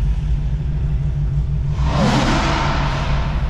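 Sports cars at a downtown rally in Greenville: a low engine rumble builds into a loud revving roar that swells partway through, close by and without talk.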